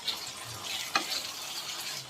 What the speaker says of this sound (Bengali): পাস্তাটা দিয়ে এবার সুন্দরভাবে নেড়ে দিতে হবে, যাতে মশলাগুলো সমস্ত পাস্তার মধ্যে অ্যাবজর্ব হয়ে যায়